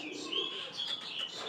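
Pigeons call inside an indoor pigeon loft, with soft cooing and chirping heard close by and no break in the sound.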